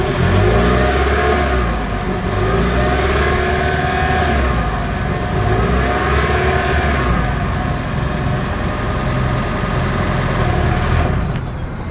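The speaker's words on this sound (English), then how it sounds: "As always, here is that exhaust clip." 2025 Toyota Crown Signia hybrid SUV exhaust, a steady mid-pitched engine drone with a couple of gentle revs rising and falling, heard close and continuous.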